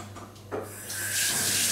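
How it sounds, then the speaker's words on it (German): Water from a tap runs as hands are washed under it, with brief rubbing and splashing that gives way to a steady, close rushing stream. "Ich wasche mir jetzt die Hände."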